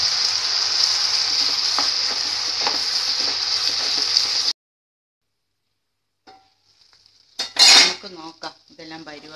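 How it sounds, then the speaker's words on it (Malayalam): Cooked jackfruit seeds stir-fried with pepper and spices in oil in a pan, a steady loud sizzle with metal spoon scrapes for several seconds, then silence and a brief clatter of utensils. "എല്ലാം ഓരോ നുള്ള് എണ്ണയും ഒഴിച്ച് നമുക്കൊന്നുകൂടി ഇത് വഴറ്റിയെടുക്കാം"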